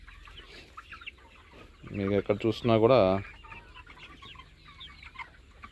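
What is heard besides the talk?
70-day-old broiler chickens clucking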